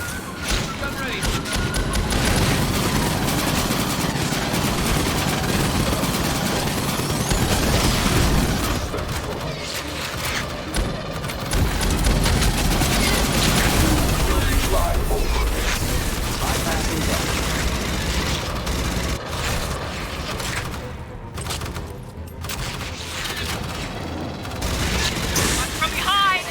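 Sustained gunfire in the Aliens Fireteam Elite video game: dense, continuous bursts and booming shots fill the whole stretch, with shouted voices breaking through in places.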